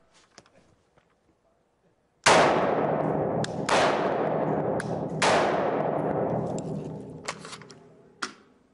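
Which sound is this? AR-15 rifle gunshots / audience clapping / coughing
AR-15 rifle gunshots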